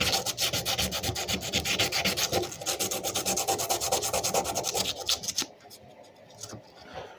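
Sandpaper rubbing over a vintage Craftsman fender body hammer from around 1948 to the 1960s, a fast, rhythmic back-and-forth scratching of steady strokes that stops near the end, leaving faint handling noise.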